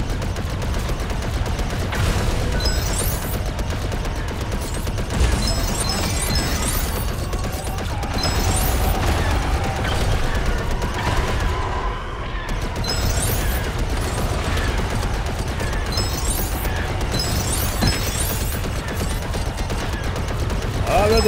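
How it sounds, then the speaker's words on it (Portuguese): Rapid cannon fire from a Lego Star Wars: The Skywalker Saga space battle on Xbox Series X, a dense, steady barrage of shots and mechanical clatter running throughout, with a player's voice occasionally over it. "É você quem está disparando os canhões!"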